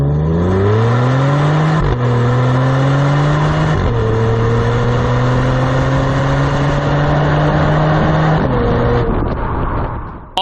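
A 2022 Genesis G70 with a 3.3-liter twin-turbo V6 accelerates hard through several gears, a loud, close engine note climbing in pitch, dropping at each shift and climbing again, with no talk over it.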